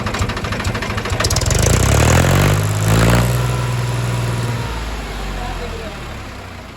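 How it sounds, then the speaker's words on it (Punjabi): A tractor engine cranks and catches loudly nearby, then settles into a steady idling rumble that gradually eases. "ਆਪਾਂ ਸਟਾਰਟ ਕਰਾ ਕੇ ਦੇਖਦੇ ਆਂ ਵੀ ਟਰੈਕਟਰ ਕੀ ਕਹਿੰਦਾ"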